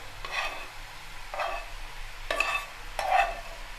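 Boiled banana stem and fried potato are stirred into spiced oil in a pan, with about four distinct bursts of scraping and sizzling at a moderate, close level.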